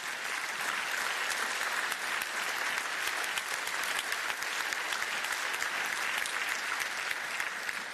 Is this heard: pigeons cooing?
no